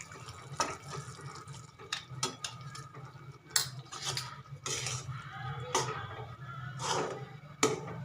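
Peanut powder being stirred bit by bit into hot sugar syrup in a pan, with repeated clinks and scrapes of a spoon against metal over a low steady hum, fairly close and without talk.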